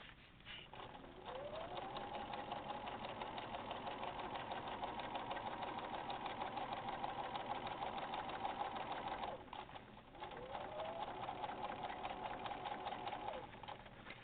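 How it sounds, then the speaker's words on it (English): A sewing machine stitches webbing onto a bag in a steady, continuous whir that runs for about eight seconds, cuts off briefly, then starts up again for a second long run. "So just keep sewing right on the edge like normal."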